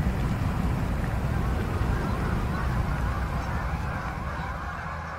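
A flock of about a thousand ducks and geese feeding on leftover grain in a field east of Calgary in winter makes a loud, continuous wash of overlapping honks and calls.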